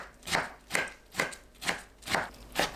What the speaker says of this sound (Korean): 묵은지는 심지를 제거하고 얇게 채 썰어줍니다